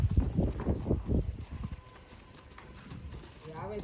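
A mare's hooves clip-clop in a quick, uneven rhythm as she dances at a wedding procession, loud and close at first and then fading, with people talking over it.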